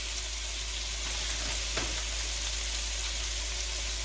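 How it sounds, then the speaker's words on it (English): Frozen vegetables and chives fry in a pan with a steady, loud sizzling hiss throughout, broken by a brief clatter near the middle, with no voices. "the rest of the cook time is going to be cooking down the frozen vegetables"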